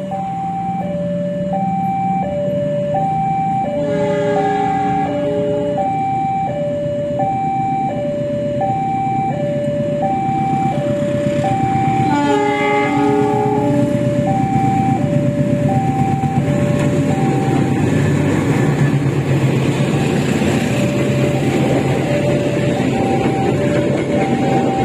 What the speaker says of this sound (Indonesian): kita rekam dulu kereta api Parsel Selatan ini berangkat dari stasiun Mojokerto